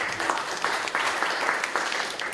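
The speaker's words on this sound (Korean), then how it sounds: "뜨거운 박수로 맞이해 주시죠" An audience at an electromagnetic wave safety forum claps to welcome a speaker to the stage, a brief, steady patter of applause from a moderate-sized crowd.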